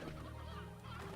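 While playing the video game Slime Rancher, a man imitates a chicken with his voice: one short, nasal, squawking cluck lasting about a second, very faint.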